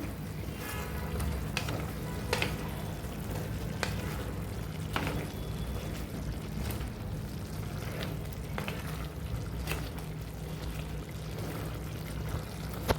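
Gongura chicken masala is stirred as it fries in a pan, with a continuous sizzle and repeated scraping and clinking of the spoon throughout, close and moderately loud.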